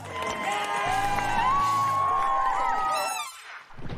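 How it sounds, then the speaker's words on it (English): Crowd cheering and whooping at a children's trampoline competition, a loud, sustained roar with some applause mixed in that fades out near the end. "Let's give a big round of applause while we meet our contestants."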